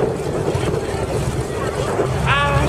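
A Corvette ZR 48 motorboat engine drones steadily at close range as it passes, with wind buffeting the microphone and a brief higher whine near the end.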